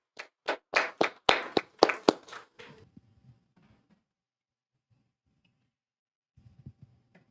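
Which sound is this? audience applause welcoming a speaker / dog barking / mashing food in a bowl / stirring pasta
audience applause welcoming a speaker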